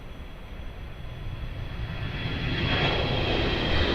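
At Lisbon Airport, a jet accelerates down runway 02 on its takeoff roll, a broad engine roar rising steadily in loudness and brightness from a distance.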